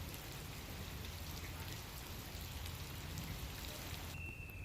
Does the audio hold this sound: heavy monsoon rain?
yes